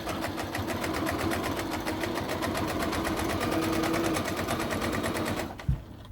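A sewing machine stitches fabric for an armchair caddy in a fast, steady mechanical run of rapid needle beats, close and continuous, then stops abruptly with a thump near the end.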